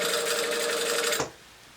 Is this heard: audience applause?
no